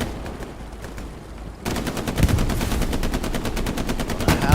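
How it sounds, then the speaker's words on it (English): Automatic weapon fire in the online war game Hell Let Loose, aimed at a shed, comes in rapid repeated bursts that grow louder after a short quieter stretch, with dense crackling shots continuing to the end. "Shoot that shed."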